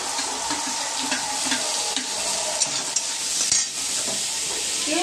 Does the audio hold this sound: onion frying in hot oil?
yes